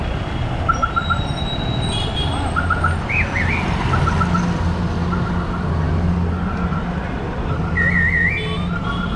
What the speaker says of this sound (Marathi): हे बघा किती ट्रॅफिक झालं आहे